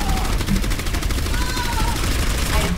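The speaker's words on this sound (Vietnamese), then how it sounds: "Bắn nghe rất sướng tai ha." Orisa's gun in the video game Overwatch fires a steady, rapid stream of loud shots throughout, with a faint voice partly mixed underneath.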